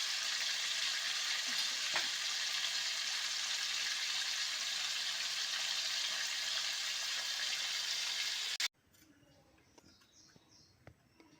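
Oil heating in a pan for a Tamil Nadu-style chicken biryani hisses in an even, close sizzle for about eight seconds, then stops abruptly, leaving a quiet room with a few faint clicks.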